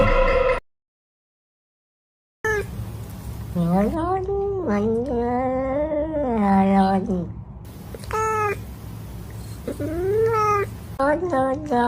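Several cat meows in quick succession, loud and close, with drawn-out rising and falling cries over a steady background hum after a brief silent gap; sounds may be a voice imitating a cat.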